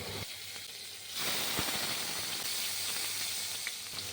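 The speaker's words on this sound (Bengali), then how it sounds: "মাছ ভাজার জন্য তেলটা ভালো করে গরম করে নিয়েছি। এবার মাছগুলো আমি ছেড়ে দিচ্ছি।" Pieces of rohu fish dropped into hot oil in a pan, a loud hissing sizzle that surges in after a quieter start and keeps frying steadily, with no speech.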